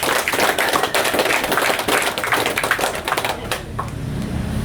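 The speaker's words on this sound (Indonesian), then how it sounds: "Tepuk tangan." Loud, dense applause from an audience at a boxing club gathering in South Papua, many hands clapping rapidly and steadily before thinning out toward the end.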